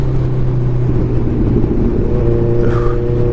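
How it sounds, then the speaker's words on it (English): A 2016 Kawasaki Ninja 1000 engine drones loudly through its exhaust at steady revs, heard up close with constant wind and road roar and no voices. "That exhaust."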